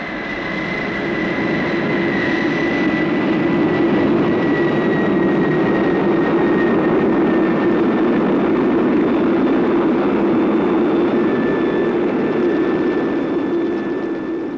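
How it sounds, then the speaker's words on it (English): A supersonic wind tunnel at a university aeronautical engineering department running with a steady, loud, close roar and a sustained high whine, unbroken from start to finish. "This supersonic wind tunnel is at the Department of Aeronautical Engineering"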